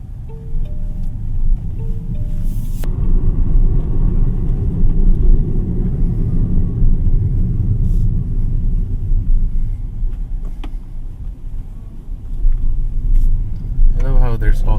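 A BYD Seagull small electric car drives through city streets, giving a steady low road and tyre rumble throughout with faint cabin noises, while a driver talks over it.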